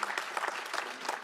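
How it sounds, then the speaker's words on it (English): Press audience clapping during the 2023 Oscar nominations announcement, a short steady patter of many hands at moderate distance, slightly muffled and alone without talk. "Okay, so you can hear people clap."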